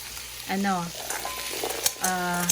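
Carrots sizzling in a hot frying pan for a sirloin Philly steak dish, a steady close hiss of frying with a few faint clinks, while a voice speaks briefly over it.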